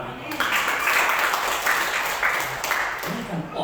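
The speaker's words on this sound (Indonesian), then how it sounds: "Berikan tepuk tangan." A congregation at a church service in Batam claps after the preacher's prompt, a sustained, fairly loud patter of applause with a few voices mixed in.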